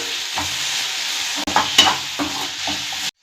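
Onions and tomatoes sizzle loudly in a hot pan while a utensil stirs and scrapes through them in several uneven strokes, close up.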